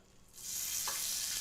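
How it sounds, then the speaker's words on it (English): Egg scramble dropped into a hot frying pan, rising suddenly into a loud, steady, close sizzle with a brief crackle just after it starts. "You're gonna hear the sizzle."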